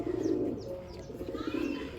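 Soft, low cooing of a captured pigeon repeats steadily throughout, close by, with faint chirps and outdoor background noise.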